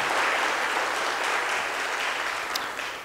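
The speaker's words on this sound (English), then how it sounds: "give a round of applause to these wonderful people" Audience at a police awards banquet gives sustained, dense applause throughout, loud and even, with no talk over it.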